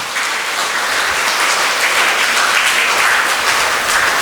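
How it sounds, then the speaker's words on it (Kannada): A congregation claps in praise of God during a Kannada Christian sermon, a dense, steady applause that holds at an even level for the whole stretch, with no voices over it. "ದೇವರಿಗೆ ಚಪ್ಪಾಳೆ ತಟ್ಟ ಸ್ತೋತ್ರ ಸಲ್ಲಿಸುವ"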